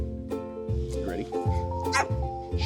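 Excited dogs bark and yip in short repeated bursts, some whimpering between, close by, with a person talking over them.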